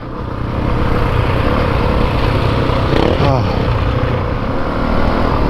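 A Honda CRF450RX dirt bike engine on a trail ride, a loud continuous buzzing drone that swells briefly midway as the rider works the throttle, with light rider talk mixed in.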